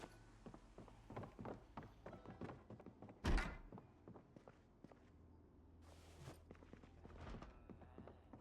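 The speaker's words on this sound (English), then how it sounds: "Is the banging next door? No, that's actually here." Banging in the Project Zomboid video game: one heavy, loud thud stands out amid a steady run of soft, close thumping steps and lighter knocks, with no talking.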